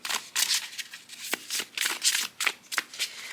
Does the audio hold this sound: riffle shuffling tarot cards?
yes